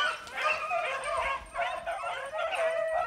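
A pack of hunting dogs bays hot on the trail of a swamp rabbit during a Kentucky small-game hunt, layered howls and yips overlapping in a steady, loud chorus without pause.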